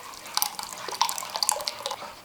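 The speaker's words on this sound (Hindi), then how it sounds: "पतीली में हल्का सा पानी डाल के हम इसमें डाल देंगे" Water goes into a cooking pot for butter chicken, splashing and trickling in uneven bursts, close and moderately loud, with no speech.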